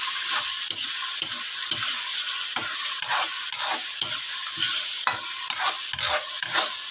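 Chop suey with chicken liver and gizzard being stir-fried in a pan, a steady bright sizzle broken by rhythmic scraping strokes of a spatula, repeated about every half second, close and loud with no talking.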